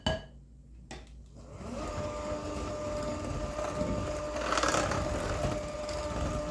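An electric hand mixer whirs steadily through pumpkin cookie batter, starting after a brief clatter and running as a continuous close motor drone with a rising grinding swell partway through.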